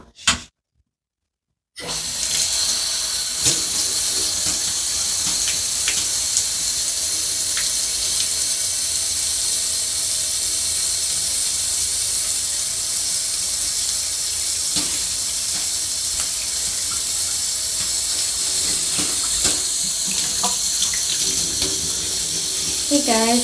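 Tap water runs steadily onto a shower head as it gets a wash in vinegar and dish soap, a loud continuous splashing hiss close by after a brief silent start, with occasional clinks.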